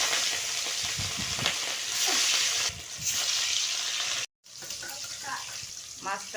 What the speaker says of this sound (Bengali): এবার বন্ধুরা আমি মাছটা দিয়ে দেব।